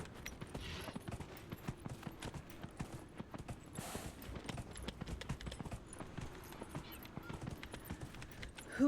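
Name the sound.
horse galloping in video game Dragon Age: Inquisition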